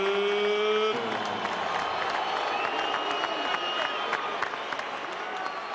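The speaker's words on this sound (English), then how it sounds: "Great atmosphere and a big crowd at the Staples Center" A large crowd at a heavyweight boxing fight in the Staples Center roars and applauds, a dense sustained cheer that follows the tail of a ring announcement.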